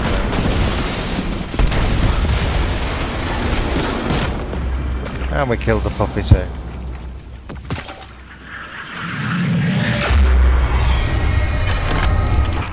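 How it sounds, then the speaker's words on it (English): Explosions and gunfire from the video game Destiny 2 during a heroic event, a dense barrage of booms and bursts with loud blasts and debris, while someone talks over the action. "I heard those explosions from here."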